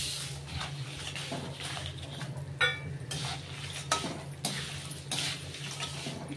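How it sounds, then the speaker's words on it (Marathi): Spatula scraping and stirring cinnamon pieces and fenugreek seeds as they dry-roast in a hot, heavy thick-bottomed kadai for Kolhapuri onion-garlic masala, a steady rasp broken by a few sharp metal clinks, no talking. "हलवत राहायचं, करपू द्यायचं नाही आपल्याला."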